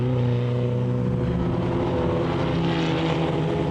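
Race car engine roaring at Spa-Francorchamps, heading into Les Combes with a damaged front end, loud and continuous with steady harmonic engine tones throughout.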